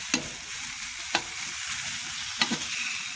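Green chile peppers and a lot of garlic sizzling in a very hot pan, a steady close frying hiss broken by three sharp scrapes as a utensil stirs them, roughly a second apart.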